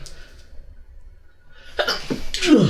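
Near the end, a sudden close sneeze bursts out after a quiet stretch, followed by a short breathy gasp.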